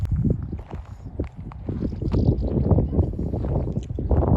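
Gusty wind buffets the microphone on the highest point of Kharkiv Oblast, with low, rumbling blasts that rise and fall throughout, loud and close.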